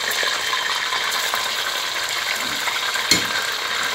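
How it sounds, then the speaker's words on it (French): Meat sizzles steadily in a hot pan as a first frying step before ndolè, with a dense crackling hiss throughout and a single small clink near the end, no talking. "Voilà, on va frire la viande."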